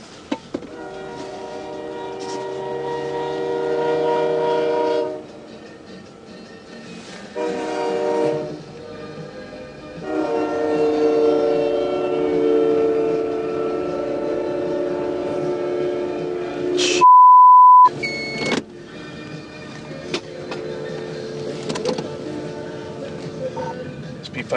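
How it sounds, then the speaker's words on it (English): A train horn sounds in long loud blasts while a train collides with a semi truck, broken by pauses, with a short sharp beep and clattering impact noises and talk near the end. "I just had a train strike a truck out here at 7 and 101."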